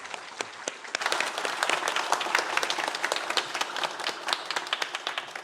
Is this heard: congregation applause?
yes